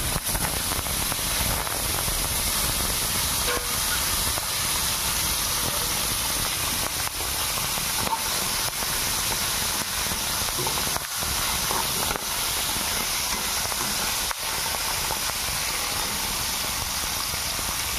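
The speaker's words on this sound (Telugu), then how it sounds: "నూనె వేడెక్కిందండి. ఎండు చేపలు వేసుకుందాం." Dried fish frying in hot oil, a dense, loud, continuous hiss and crackle that holds steady the whole time with no speech.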